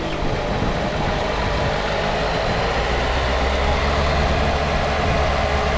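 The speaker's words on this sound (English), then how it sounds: "Listen to the exhaust sputtering." A car engine idling at about 1000 rpm with a sputtering, uneven exhaust, a loud, close, continuous rumble with no talk.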